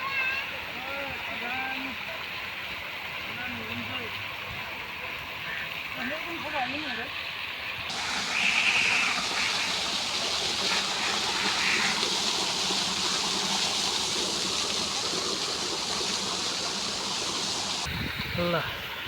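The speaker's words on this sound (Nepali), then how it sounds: "हात्तीको सुँडले पानी फालेको छ त" Water gushes from the trunk of an elephant-shaped topiary at Dubai Miracle Garden, a steady rushing splash that swells louder partway through, with people talking in the background.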